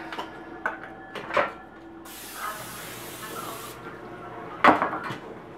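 A short hiss of an aerosol cooking spray can spraying onto a cookie sheet for under two seconds, between soft clunks and handling noises close by.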